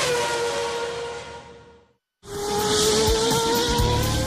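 A Formula 1 race car at speed, a loud high-pitched engine whine that fades away, cuts out briefly, then returns at full intensity with tire squeal and rising revs.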